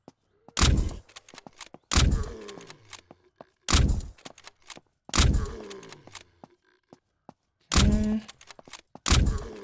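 Six heavy gunshots in the SurrounDead video game ring out singly about every one and a half seconds, each a sharp loud crack with a short decaying tail, with a brief spoken word between shots.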